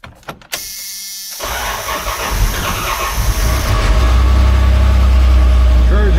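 A 1989 Dodge W100 truck cranks over after a brief click and quiet, then catches and settles into a loud, steady idle with a faint squeal, heard up close.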